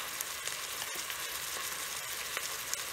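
Ingredients for chorizo meatball spaghetti sauté in a pan, giving a steady, close sizzle with a few light clicks and taps from stirring.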